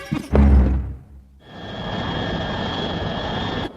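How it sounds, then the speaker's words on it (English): A cartoon airplane engine gives a heavy low burst, dips away, then settles into a steady whining drone with no voices over it. "It sounded like an engine stopped."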